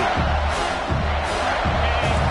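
Football stadium crowd roaring for the defense on a big third down in the red zone during a South Carolina vs Ole Miss game, a steady, dense wash of cheering throughout.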